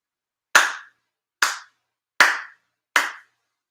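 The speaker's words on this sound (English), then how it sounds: "4 sincere claps along the head officiant" Four sharp, evenly spaced ritual hand claps ring out at a Konko shrine ceremony at Chula Vista Kōsha, close and clear, with silence between each clap.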